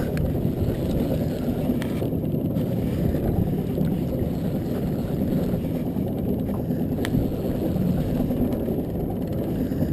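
A small dinghy's engine drones steadily as the boat moves across the sea while fishing, a continuous low hum with wind buffeting the microphone and no break in the noise.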